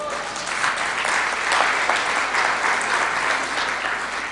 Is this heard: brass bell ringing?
no